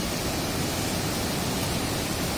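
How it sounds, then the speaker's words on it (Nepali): The Trishuli river in Nepal flowing full in early summer, a dense, steady rushing roar of water with no gaps, loud and close. "यो बग्दै गइरहेको त्रिशुली नदी हो।"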